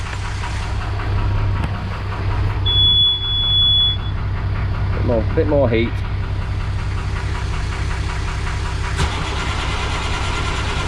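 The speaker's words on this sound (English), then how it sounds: "The starter motor seems healthier on the starboard one" A Princess 33 motor cruiser's inboard engine runs with a steady, droning low rumble from start to finish, while someone speaks briefly over it.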